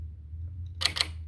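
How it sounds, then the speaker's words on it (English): Bird feeder shutters triggered open and closed, two quick sharp mechanical clicks in close succession over a low steady hum. "I have to send manually a trigger to open and close the shutter"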